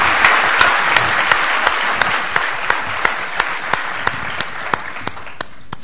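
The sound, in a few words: audience applause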